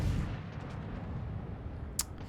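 Heavy battleship guns boom in a naval video game as a Yamato fires on a Montana, a dense low rumble of salvos rolling throughout with one sharper, brighter crack near the end.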